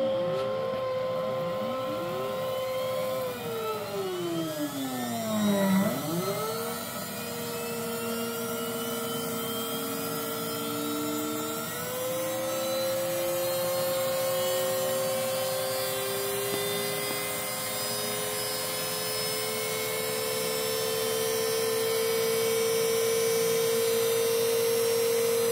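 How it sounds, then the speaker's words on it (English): Experimental Kromrey and Bedini effect motor running steadily, a loud continuous electrical whine and hum with rising and falling tones that sweep down sharply around a quarter of the way through, then hold a sustained pitch to the end. "Now, how did that motor sound?"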